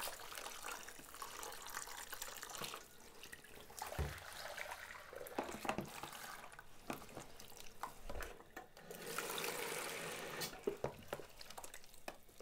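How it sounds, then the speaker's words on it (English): Dyed cotton yarn being rinsed under a running tap, a steady hiss of flowing water with splashing and occasional louder swishes as the skeins are moved through the stream, close and continuous with no talking. "Just want to give them a good initial rinse."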